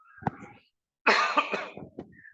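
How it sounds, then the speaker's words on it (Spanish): Several harsh coughs from someone recovering from a respiratory illness, a short isolated cough first, then a pause and a loud burst of chesty coughing that trails off into smaller coughs and throat noises, close to the microphone. "todavía tengo algunos ecos de esa tos"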